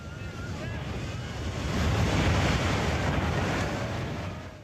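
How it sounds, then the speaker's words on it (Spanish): Tsunami waves crashing onto the coast, a loud, continuous roar of surf and rushing water with wind noise that swells to a peak midway and then eases slightly. "Es una descomunal avalancha de agua que no deja nada en pie cuando golpea la costa"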